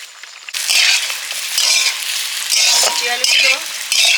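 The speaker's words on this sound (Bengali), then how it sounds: "প্রায় ভাজা হয়ে এসছে" Sweet potato slices fry in a pan with a loud, steady hiss and sizzle, swelling in bursts as they are stirred, with light scrapes of a utensil against the pan.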